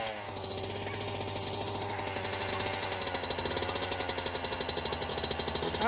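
A dirt bike engine fires up on the first kick and settles into a loud, close, steady rapid chugging idle with an even pulsing rhythm, no talk over it.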